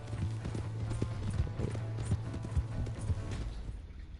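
Quiet, steady clip-clop of horse hooves at a walking pace over a low background drone in the video game Red Dead Redemption 2, with no talking.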